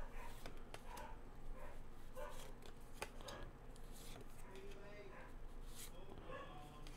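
Dogs barking in the background indoors, faint scattered barks and yips behind close talking and occasional handling noises.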